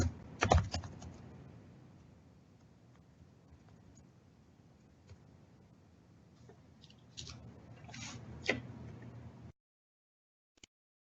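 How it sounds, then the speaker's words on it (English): Quiet keystrokes on a computer keyboard as sensitive search keywords are entered, with scattered clicks and a short burst of typing near the end before the sound drops to silence. "I'm typing some like very sensitive keywords"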